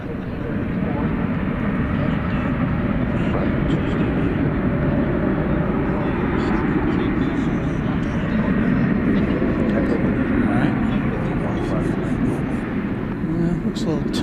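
At DFW Airport at night, a Boeing 737 Max 8 airliner's engines produce a broad, steady jet roar that fills the background and holds for the whole stretch, with someone talking over it.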